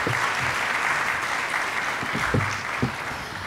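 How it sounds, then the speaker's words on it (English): Steady audience applause for forum panelists, dense clapping filling the room at an even level, with a few voices briefly cutting through. "Give them a round of applause."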